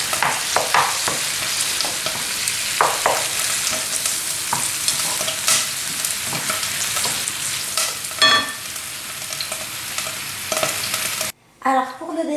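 Rice pan-fries in a skillet, sizzling steadily while a utensil stirs and scrapes it in irregular bursts, loud and close, before cutting off abruptly near the end.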